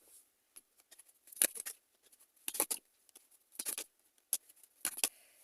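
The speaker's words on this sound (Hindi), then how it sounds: "चलिए कुछ और कार्ड्स लेते हैं।" Tarot cards being handled and drawn from a deck, giving a series of soft close-up clicks and brushing flicks in irregular bursts, with quiet pauses between them and no talking.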